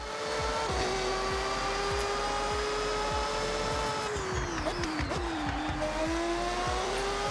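A car in a racing video game drives under sustained engine drone with tyre squeal, the pitch holding steady then sliding down and wavering near the end, with no talking.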